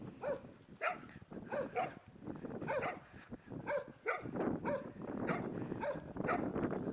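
Dogs barking repeatedly in a rapid, uneven series of yips and barks, fairly close, with some whimpering mixed in.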